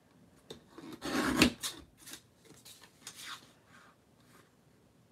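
An old Creative Memories paper trimmer slicing through paper, a close rasping slide with a stronger burst near the start and softer scraping strokes after, no talk.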